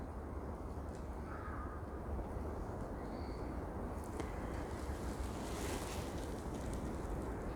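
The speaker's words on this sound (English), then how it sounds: "I can hear the wind coming from my right side, from behind me" Steady wind blowing outdoors in a snowy natural setting, a continuous broadband rush that swells slightly and stays constant throughout, with no voices.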